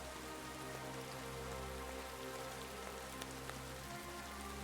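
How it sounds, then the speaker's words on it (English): Steady, dense rain falls in the medieval video game Kingdom Come: Deliverance II, a continuous close hiss of drops pattering on surfaces, with a low rumble underneath and no voices. "Couldn't it stop raining at least for a moment?"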